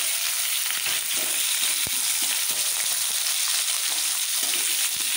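Diced potatoes frying in a pan over medium heat for Bengali khichdi give a steady, dense sizzle that stays loud and even throughout, with a few soft knocks and no voices.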